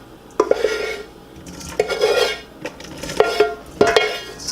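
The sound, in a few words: ground beef being put into a colander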